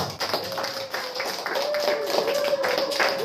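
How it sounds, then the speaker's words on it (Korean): Church congregation clapping, a run of scattered hand claps over a murmur of voices and a sustained tone in the room. "박수 한번."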